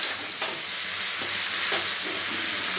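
Bitter gourd and eggplant sauté with spices for a mustard curry, a steady hissing sizzle with occasional scraping strokes of stirring close by.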